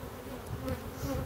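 Honey bees at a strong hive in Pennsylvania, a steady close buzzing drone with no voices.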